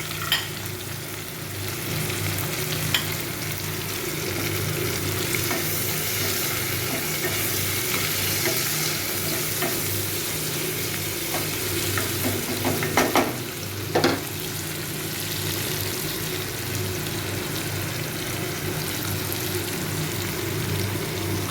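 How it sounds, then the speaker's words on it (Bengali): Three chopped medium onions and about eight whole garlic cloves fry in oil in a pan for a mutton kosha and pilau recipe, giving a continuous close sizzle with occasional stirring scrapes and pops. "এই পেঁয়াজ আর রসুনটাকে একটু ভেজে নেব ভালো করে।"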